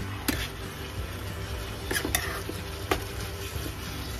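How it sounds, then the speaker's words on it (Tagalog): Egg adobo being stirred in a pan, a spoon scraping and clinking against the metal with occasional sharper knocks over a steady low sizzle, close and fairly loud with no talking. "Halo-halo na natin na ganyan."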